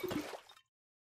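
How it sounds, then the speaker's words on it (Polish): Water being scooped into a bottle in Minecraft, a brief close liquid slosh and plop lasting about half a second before it cuts to silence. "No oczywiście, że ja sobie wodę nabieram."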